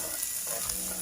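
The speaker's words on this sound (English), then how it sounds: "you're going to fry them in the frying pan" Onions and garlic fry in a frying pan, a steady close hiss and crackle of sizzling oil with faint stirring, no voices over it.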